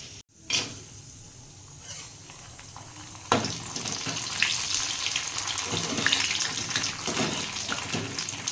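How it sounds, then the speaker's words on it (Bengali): Papad frying in leftover luchi oil in a wok: after a few faint clatters, a loud, steady sizzle takes over and keeps bubbling to the end, with no talking. "তার মধ্যে কয়েকটা পাঁপড় ভেজে নেবো"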